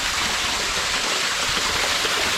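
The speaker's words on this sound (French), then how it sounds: "C'est une cascade intérieure" Steady broadband rush of an indoor waterfall inside the Verdon gorge, heard up close from a kayak, a dense continuous roar with no pauses or voices.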